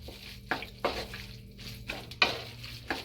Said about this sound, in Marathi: उकळलेले बटाटे मगाशी उकळलेले आहेत ते व्यवस्थित परतून